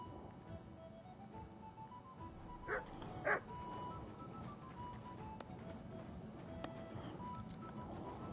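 Mutt, a dog in the video game Kingdom Come Deliverance 2, gives two short barks in quick succession over steady game ambience, with fainter background noise.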